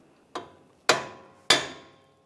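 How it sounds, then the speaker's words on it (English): Three sharp metallic hammer blows on the steering drag link of a Jeep Wrangler, spaced about half a second apart, each ringing briefly before fading. "Just separate it with a hammer if you don't have any of those front end tools."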